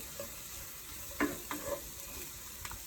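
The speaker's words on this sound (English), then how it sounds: "I'm going to go ahead and add in our chopped mushrooms. We're just going to cook these down a bit." Chopped mushrooms and onions fry quietly in a pan for a frittata made from leftovers, a soft continuous sizzle broken by a few faint spatula scrapes and clicks.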